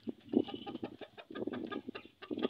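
Hen squawking and clucking inside a chicken coop in Ghana, a run of loud, agitated calls repeating steadily and close by, with no talk.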